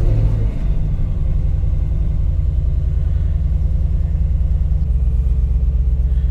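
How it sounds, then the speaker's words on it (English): An LT4 V8 in a Jeep Wrangler fires up from cold, a brief starter burst giving way to a loud, deep, steady idle rumble with a pulsing low throb. "Let's do a cold start with this LT4."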